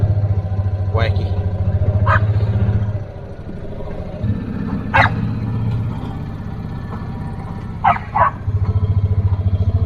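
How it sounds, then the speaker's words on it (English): Dogs bark in short bursts near a loose pig on a farm, with a steady low engine-like drone running underneath throughout. "Dogs are barking and driving her kind of wacky."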